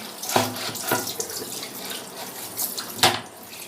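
An item is washed under a running kitchen tap, with steady close water flow broken by splashes and clatters as it is rinsed in the sink.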